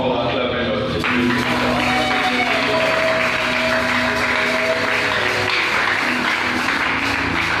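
A church congregation applauds and cheers in praise, a broad, steady wash of clapping that holds throughout, with a held musical tone and voices mixed in.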